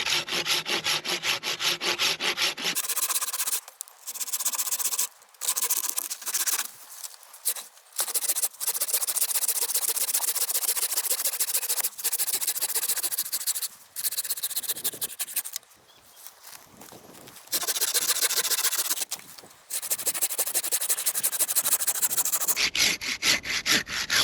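A hand saw rasps through neem tree branches during pruning, long back-and-forth strokes in bursts separated by short pauses, close and loud with no talking.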